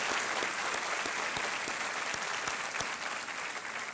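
A studio audience at the Kaun Banega Crorepati quiz show claps steadily, a dense, even wash of applause that holds at a constant level from start to finish with no voices over it.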